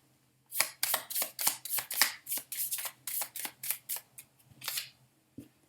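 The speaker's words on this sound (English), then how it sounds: "as I was shuffling" Oracle cards being shuffled by hand, a quick irregular run of crisp riffling slaps close up, with no talking.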